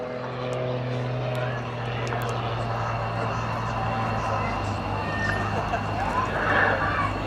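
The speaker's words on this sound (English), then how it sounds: "An absolutely superb display coming in to land back on Rich Goodwin with his muscle biplane" Rich Goodwin's muscle biplane comes in to land after an airshow display, its propeller engine droning steadily and fairly loud with a low hum, while a commentator's voice and crowd noise run over it.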